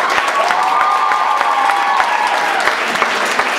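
An audience at an awards ceremony claps steadily and warmly, a sustained wash of applause in a hall, with a brief tonal sound drifting faintly underneath.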